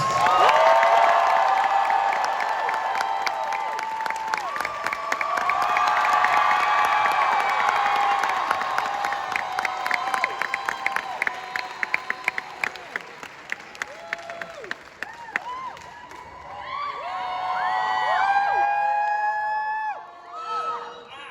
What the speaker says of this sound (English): the anime and Netflix live action One Piece. Give them a round of applause